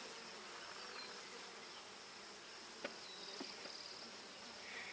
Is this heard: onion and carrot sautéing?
no